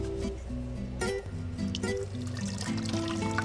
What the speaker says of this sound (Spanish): debemos de llenar con agua